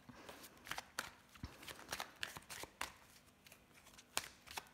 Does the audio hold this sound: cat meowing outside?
no